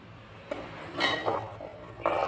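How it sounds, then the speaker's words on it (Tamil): Utensil scraping and clinking against a cooking pot while paneer gravy is stirred, a few quiet clanks and scrapes in close succession, no voices. "நல்லா கிளறி விட்டு கொதிக்க விடுங்க."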